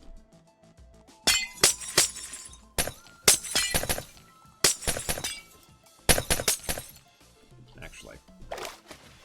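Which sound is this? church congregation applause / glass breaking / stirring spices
glass breaking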